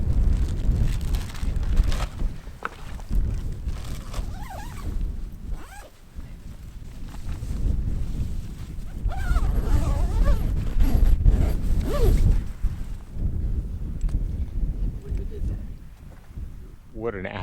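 Wind buffets a microphone outdoors in the mountains on a solo camping trip, a heavy, gusting low rumble that swells and eases, with a person speaking at times over it.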